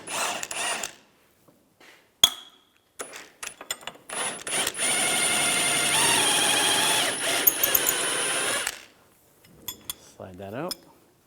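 Metal ratchet clicking and clinking as an 18mm socket works a trailing arm bolt loose on a 1998-2010 Volkswagen Beetle rear suspension, with a sustained stretch of rapid ratcheting between scattered knocks and clanks, close and fairly loud.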